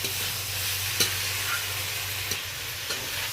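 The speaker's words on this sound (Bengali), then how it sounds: "ভেজে রাখা আলু আর ভেজে রাখা কলাটা ভালো করে আমি কষিয়ে নিলাম।" Fried potato and green banana being stir-fried with spices in a pan, a steady moderate sizzle throughout with a few soft spatula knocks spaced across it.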